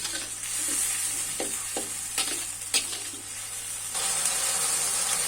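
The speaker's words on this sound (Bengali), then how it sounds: "আমি পেঁয়াজটা ভালোভাবে কষিয়ে নিব মশলার সঙ্গে" Onion cooking down with spices and a little water in a pan, a steady sizzle broken by several scraping stirs of a spoon, close and fairly loud, with no talking.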